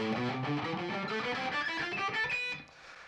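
Distorted electric guitar runs quickly up a minor (Aeolian) scale in a three-notes-per-string pattern, notes climbing steadily in an even stream before cutting off near the end.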